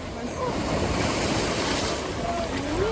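Sea waves splash and wash steadily along a Spanish shore, a broad close rushing roar with wind buffeting the microphone throughout.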